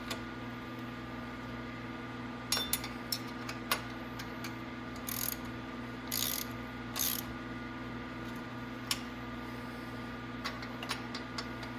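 Bolts are tightened on both sides of the rear end of a Venom 1500W E-Grizzly electric ATV, with scattered ratchet clicks and short bursts of metallic tool noise over a faint steady hum.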